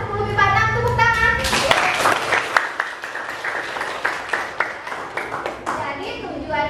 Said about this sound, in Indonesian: Kelas 10 MIPA 6, tepuk tangan.